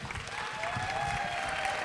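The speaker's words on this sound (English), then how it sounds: "So let's give her a round of applause to let her know we're excited." A conference audience at a technology event claps steadily for an introduced presenter, a dense, even patter of applause filling the room with a few faint cheers mixed in.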